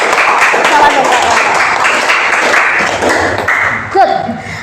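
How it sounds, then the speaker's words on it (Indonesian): A small classroom group claps for a presenting team, brisk close-up clapping that runs for several seconds and then fades, with a few voices breaking in near the end. "Tolong tepuk tangan untuk kelompok ini"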